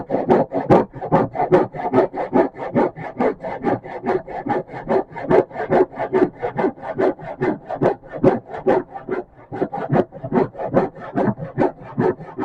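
A crosscut hand saw rips through a 2x4 in steady, rapid back-and-forth strokes, each rasping stroke loud and close, about two per second, with no talk over it.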